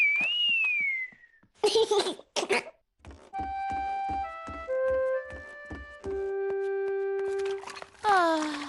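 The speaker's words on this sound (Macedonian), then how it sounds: "Џорџ може да свирка." A Peppa Pig cartoon character whistles: a gliding whistle, brief character voices, then a clear tune of held whistled notes stepping between pitches.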